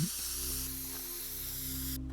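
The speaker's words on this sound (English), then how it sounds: "using a spray can, I'm going to draw a line" Steady spray-can hiss as a line is painted in the game Teardown, continuous and fairly loud over a low game hum, with no talking.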